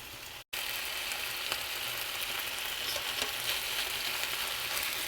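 Chicken searing in hot bacon grease in a skillet, a steady close crackling sizzle with scattered pops, broken by a brief gap near the start and then continuing evenly.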